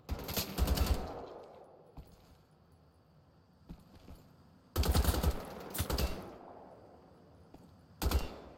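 Bursts of rapid automatic gunfire from the Bombenschuss weapon in the shooter Wolfenstein: The Old Blood come in three loud, close volleys separated by quieter gaps with faint clanks.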